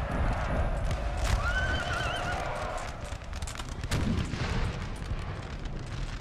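Cavalry charge in the Napoleon Total War video game, light horse riding into grenadiers: horses neigh and whinny over steady galloping hooves, with distant musket and artillery fire rumbling underneath, dense and continuous battlefield noise.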